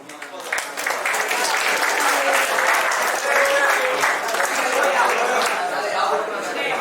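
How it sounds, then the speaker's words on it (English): Lecture-hall audience clapping in a steady, dense burst that fills the room, with some crowd chatter mixed in throughout. "You should clap."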